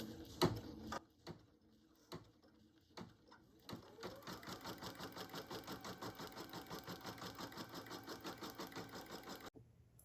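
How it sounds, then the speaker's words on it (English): An embroidery machine runs placement stitches for a bear's inner ear on an in-the-hoop stuffie, starting with a few scattered clicks and then settling into a fast, even, close mechanical stitching rhythm until it stops. "you're gonna run the next stitch, and this stitch will be the placement stitches for the inner"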